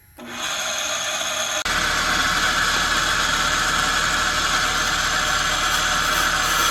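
A rebuilt engine cranks briefly, then catches and settles into a loud, steady running roar that continues close by without talking.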